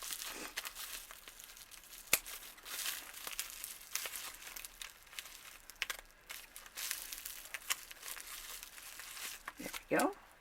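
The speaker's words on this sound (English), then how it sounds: "now we'll start snipping at this side" Doll packaging for an Angell Studio resin ball-jointed doll crinkles and rustles as it is snipped open during an unboxing. The sounds come as soft, irregular plastic crackles with one sharp snip-like click and a louder crinkle near the end.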